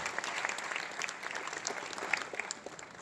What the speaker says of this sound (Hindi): आप एक बार जोरदार ताली बजाकर ठकराल सिंह का स्वागत करें, अभिनंदन करें।